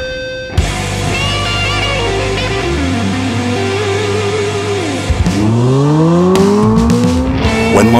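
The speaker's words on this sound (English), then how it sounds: "Drifting." A Hyundai IONIQ 5 N drifting, its tires squealing loudly and continuously in rising and falling tonal screeches as it slides, close and alone throughout.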